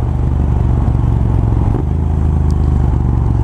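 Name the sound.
Triumph Scrambler 900 motorcycle riding at speed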